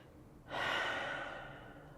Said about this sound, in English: Take a slow, deep breath in,